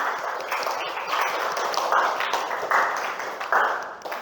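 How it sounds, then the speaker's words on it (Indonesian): Students in an Indonesian language classroom clap for a classmate, a brief scattered round of hand claps with uneven bursts, fairly close and loud. "beri tepuk tangan untuk Jihan"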